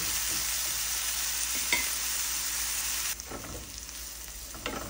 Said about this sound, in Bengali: এইভাবে নেড়ে চেড়ে আমি 2-3 মিনিট মটরশুঁটিগুলিকে সেদ্ধ করে নেব